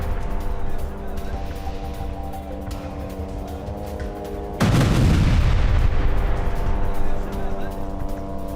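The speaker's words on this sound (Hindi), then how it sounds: "तुलकर में आईडीएफ के व्हीकल को कैसे उड़ाया देखिए।" An IED blast strikes an Israeli army vehicle in Tulkarm: a sudden heavy boom breaks in midway over a steady droning background, then lingers as a rumbling roar.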